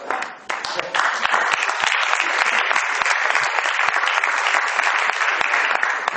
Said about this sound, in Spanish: No me aplaudéis que me subo arriba.